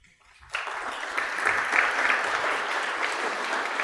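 Audience applause breaks out after a brief quiet at a Rotary scholarship ceremony, a dense, steady clapping from a standing crowd that holds strong to the end.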